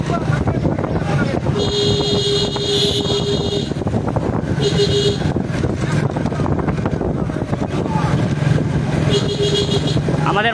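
A motorcycle carrying an MP candidate rides in an Islami Andolan Bangladesh political procession in Mongla. A constant engine and crowd roar is cut by repeated horn toots, with voices mixed into the din.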